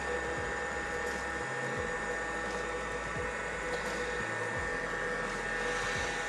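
A heat gun warms a plastic trigger finger splint to activate its adhesive, giving a steady, loud blowing hiss with a low hum that runs unbroken throughout, with no talking.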